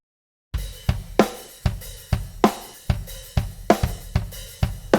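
A snare drum processed through a multi-band compressor preset hits in a steady groove, about a dozen sharp, punchy strikes with tight, quickly gated tails, starting after a brief silence.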